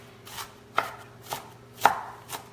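A knife chops onions into a rough cut on a board, giving four or five separate sharp knocks spaced about half a second apart over a low steady hum, with no voices.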